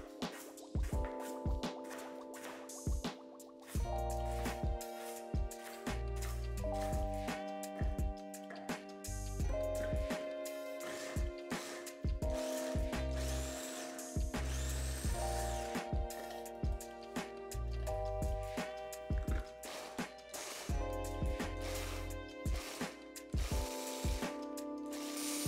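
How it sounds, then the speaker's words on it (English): A food processor mincing shallot and chopped lemongrass runs continuously, a loud close mechanical whir and rattle with shifting pitch as the blades churn, steady throughout without pauses. "we're just gonna throw this into the food processor to make it easy"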